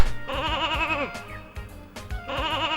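Sheep bleats from a PS1 video game, a few wavering, tremolo-like cries separated by short gaps and set over a backdrop of game music and effects.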